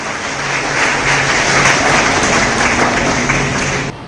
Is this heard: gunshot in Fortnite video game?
no